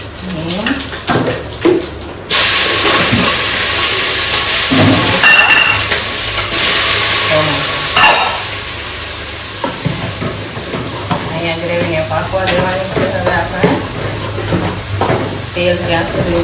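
Mustard seeds, cumin and asafoetida crackle and sizzle in hot oil with fenugreek, a loud continuous fry with scraping and pan clatter, while someone talks over it.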